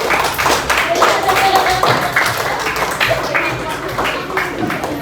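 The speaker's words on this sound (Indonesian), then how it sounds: "berikan aplaus dulu untuk kelompok 1" A classroom group applauds group 1: continuous, lively clapping from many hands lasting throughout, with voices chattering over it.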